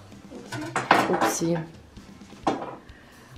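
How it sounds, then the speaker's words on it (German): Dishes and cutlery clinking and clattering close by as a dishwasher is unloaded in a home kitchen, with a brief spoken exclamation over the noise. "ich räume den Geschirrspüler aus."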